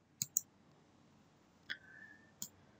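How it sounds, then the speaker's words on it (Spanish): Computer mouse clicks while adjusting page settings in Microsoft Word: four sharp, quiet clicks, a quick pair near the start, then two single clicks spaced apart, over faint background hiss with no talking. "Me puedo hacer clic acá donde dice márgenes personalizados."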